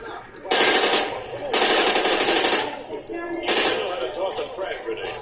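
Gunfire from a weapon shooting through light cover in the Modern Warfare 2 video game, loud rapid bursts in three stretches with clattering, metallic impacts between them.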